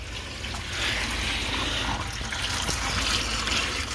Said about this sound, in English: Got my own garden hose right in the garage. Turn that one on.